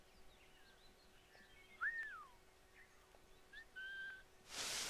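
A character whistles in the stealth action game Assassin's Creed: Liberation, giving a few short, rising and falling tonal whistles over quiet ambient background, then a sudden loud burst of noise at the end.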